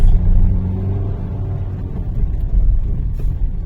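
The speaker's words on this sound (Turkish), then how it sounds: "Bas gaza şimdi hızlanıp buraya geçtikten sonra hızlanıp ikiye alıyoruz" A car accelerates during a driving test, its engine a deep, loud rumble heard from inside that swells and settles as the driver presses the gas.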